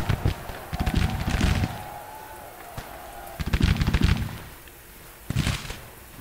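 Civil War brigades fire musket volleys in Grand Tactician, three rolling bursts of crackling shots spaced a couple of seconds apart, fairly distant, with a low rumble between volleys.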